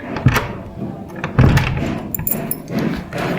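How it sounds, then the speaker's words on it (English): Someone locking a door at home, with a cluster of metallic key jangles, clicks and a couple of thuds close by, spread irregularly over a few seconds of background noise. "I'm locking the door now."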